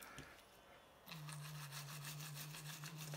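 A toothbrush buzzes and scrubs inside an opened iPhone 11 up close, starting after a quiet moment and continuing as a steady electric drone with rhythmic brushing.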